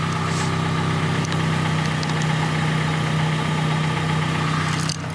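A Hyundai LF Sonata engine idles steadily up close, a constant mid-low hum with an even tone, running alone for about five seconds before easing slightly at the end.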